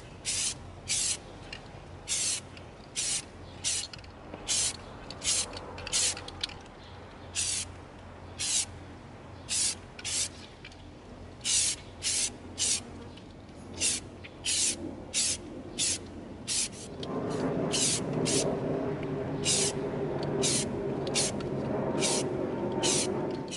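Repeated short bursts of an aerosol spray can laying matte deep gray paint onto an EVA foam impact grenade, close and crisp, in uneven spurts followed by a steadier broadband hiss near the end.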